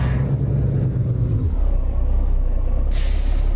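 Air brakes of a truck in American Truck Simulator release with a loud hiss, then a low engine rumble continues and a second sharp burst of air follows near the end, no talking.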